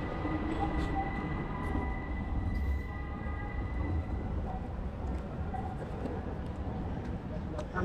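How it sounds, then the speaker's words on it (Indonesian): Riding a train in Istanbul: a steady low rumble and rattle of the carriage in motion, with faint squeals and clacks over the roar throughout. "kalau tadi berangkatnya kita naik ini, naik kereta"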